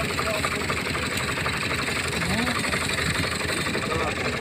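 A tractor engine idles steadily through the whole stretch, a constant low rumble with a faint hum, while people talk over it.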